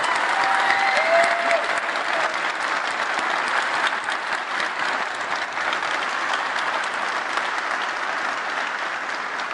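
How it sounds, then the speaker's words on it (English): Keynote audience applauding at a tech conference: sustained, dense clapping from a large crowd, steady and loud throughout with no talk over it. "I kind of want to applaud right now,"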